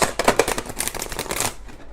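Tarot cards being shuffled by hand, a quick run of crisp riffling flicks and soft slaps that is close and fairly loud, then easing into faint rustle after about a second and a half.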